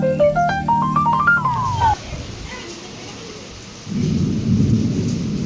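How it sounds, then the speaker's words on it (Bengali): A short rising melodic tune gives way to the steady roar of heavy rain, with a deep rolling rumble swelling in toward the end. "কি জোর বৃষ্টি হচ্ছে"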